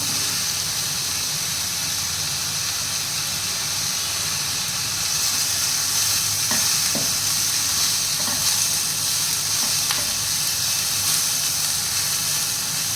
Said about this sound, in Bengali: এবার আমি দিয়ে দেবো ছোটো করে কাটা মাশরুম।